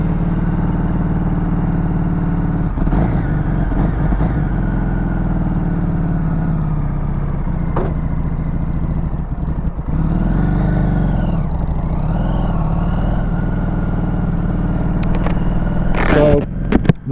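A teal Harley-Davidson XG750 motorcycle with a Suspension Technologies trike conversion kit runs steadily throughout, a continuous mid-pitched engine drone with a brief rise near the end, loud and close with wind noise.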